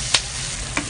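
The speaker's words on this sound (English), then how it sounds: "Stir fry." Chicken with lemongrass stir-fries in a pan, giving a steady close sizzle with two quick scraping stirs of the utensil against the pan.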